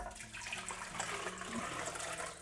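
A dairy and sugar mix is poured into a new blender for mango ice cream, making a quiet, continuous liquid splash and gurgle that runs for a couple of seconds.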